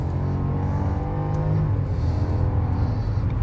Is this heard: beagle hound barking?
no